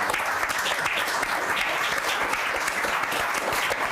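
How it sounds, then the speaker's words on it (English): Conference audience at a staking panel gives a steady, full round of applause, dense clapping sustained evenly from start to finish with no talk over it. "maybe we should give a big round of applause to"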